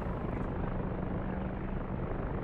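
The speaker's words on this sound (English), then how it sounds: "Helicopters over there." OH-58 helicopters flying nearby in the DCS World flight simulator, a steady dense rotor and engine rumble that fills the whole clip at constant loudness with no talk over it.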